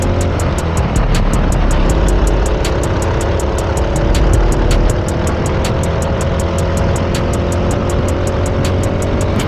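A kart engine drones steadily on a race track at Forest Edge, loud and close, with a buzzy high-revving tone that shifts slightly in pitch as it's pushed, no voices over it.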